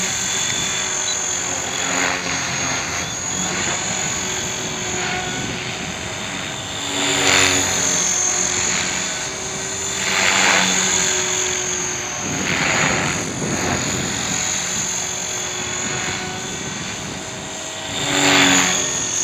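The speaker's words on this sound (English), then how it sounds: "Okay, let's try some forward flips." A Hobbyking RC helicopter doing forward flips whines with a high, steady motor and rotor tone, while its rotor noise swells in repeated whooshing surges as it loops, loud and close with no talking.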